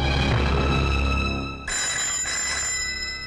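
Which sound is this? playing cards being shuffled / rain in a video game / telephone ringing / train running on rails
telephone ringing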